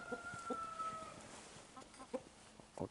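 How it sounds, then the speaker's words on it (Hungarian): Chickens cluck in short, irregular bursts around a farmyard, with a rooster's brief call early on, close and fairly faint against a quiet outdoor background, with no talking. "Ő a vezérkakas."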